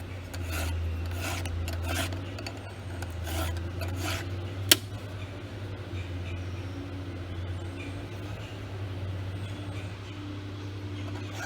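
Chainsaw chain being sharpened by hand with a file, repeated rasping strokes in an uneven rhythm over a low steady hum, with one sharp click partway through.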